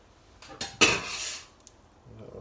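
A spoon stirs home-brew wort in a BrewTools B80pro electric brewing kettle, giving a few close metallic scrapes and clinks in one short burst, then near quiet.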